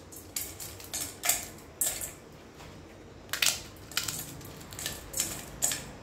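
Mathri crackers are broken by hand in a bowl, giving about ten crisp, close snaps and crunches spaced irregularly over a quiet background.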